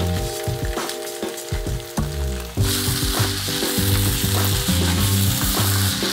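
Chopped green onion and peas fry in a hot pan, with a quieter sizzle that jumps louder partway through as they go in, then a steady, dense crackle with stirring scrapes.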